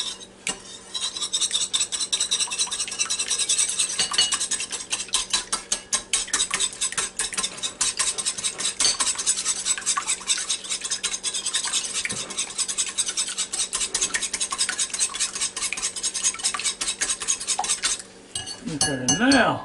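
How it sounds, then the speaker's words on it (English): A whisk stirring tough egg yolk in a bowl, rapid rhythmic metallic clinking and scraping close up, steady and fast for most of the stretch before stopping near the end. "Now, take my trusty whisk again. Try to stir it up."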